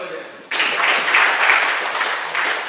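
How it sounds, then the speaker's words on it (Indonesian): An audience at a formal gathering bursts into applause for Pak J, a sudden dense clapping that starts after a brief quieter lead-in and holds steady at moderate loudness. "Tepuk tangan Bapak J."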